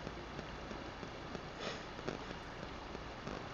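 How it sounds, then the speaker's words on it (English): Steady broadband rush of a river flowing at night, constant and fairly loud with no voices over it. "It is nice sitting here"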